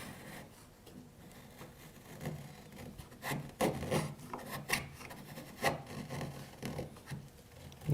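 A sharp chisel pares a cut clean in pine, a run of short rasping scrapes that start sparse and grow denser and louder, close and dry against a quiet shop with no talking.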